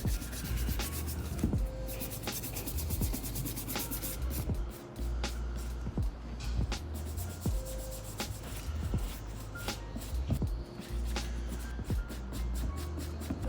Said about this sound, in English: using a Suede brush will allow you to bring back the texture